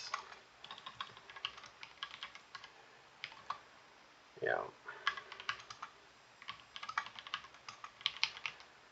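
Rapid clicking keystrokes on a computer keyboard while commands are entered into a Vim terminal, irregular bursts of close taps with a brief pause midway.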